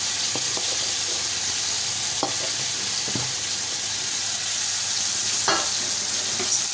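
Green onion, capsicum and other vegetables sizzle in a hot pan while a utensil stirs and scrapes, with a few distinct clicks and scrapes over the constant frying hiss.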